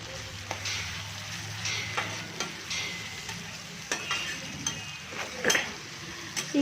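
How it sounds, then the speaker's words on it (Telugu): Ginger garlic paste fries in a pan for a prawn curry with jikka, sizzling steadily up close while a utensil stirs and scrapes, making irregular clinks and taps; no voices. "ఇది పచ్చి వాసన పోయేదాకా మనం వేపుకుందాం."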